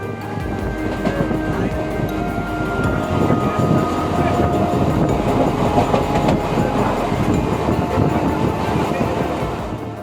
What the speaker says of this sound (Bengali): আমাদের ট্রেন তখন রানাঘাট স্টেশন